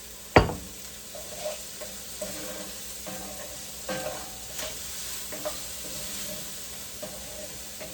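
Chicken stir-fry seasoned with cayenne sizzles in a little oil in a pan, a steady crackling hiss with intermittent louder spits and stirring clatter, close and alone without talk.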